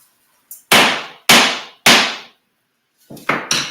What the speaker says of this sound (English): I gotta bang the gavel on you